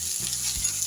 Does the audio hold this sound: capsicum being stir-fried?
yes